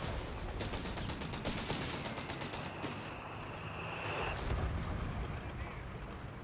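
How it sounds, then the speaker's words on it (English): Machine gun fire in a Company of Heroes 3 battle: continuous rapid rattling bursts amid a dense, loud wash of combat noise and distant blasts, steady throughout. "Have a machine gun coming in to support."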